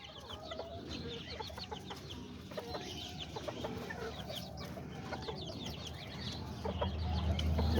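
Young hens cluck softly in a cage, scattered short calls over a low background hum, with a rumble building toward the end.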